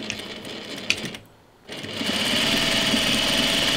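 Home sewing machine stitching a sleeve while mending old clothes, starting with a short run, pausing briefly, then humming loudly and steadily at close range.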